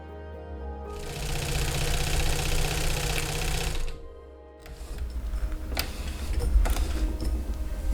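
A sewing machine stitching the side seams of a dress runs in a steady, fast mechanical whir, pauses briefly, then starts again, close and continuous.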